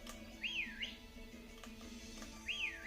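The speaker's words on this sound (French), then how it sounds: "Oh, on peut siffler." Whistling in the video game Pokémon Sword: two clear rising-and-falling whistled phrases, one near the start and another near the end, over a quiet ambient game background.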